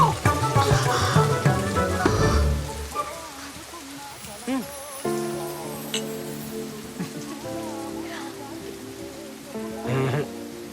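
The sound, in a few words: rain falling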